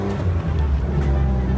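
Old free car driving along with worn CV joints, a steady low engine and drivetrain rumble filling the whole stretch, with brief talk over it.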